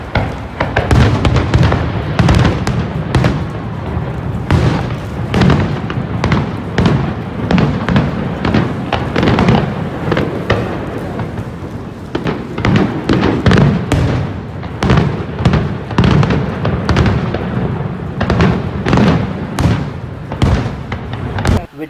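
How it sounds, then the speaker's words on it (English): Fireworks over Niagara Falls crack and boom in a dense, continuous barrage, with loud overlapping bursts and rumbling echoes filling the whole stretch without pause. "I have video clip of last year Niagara firework."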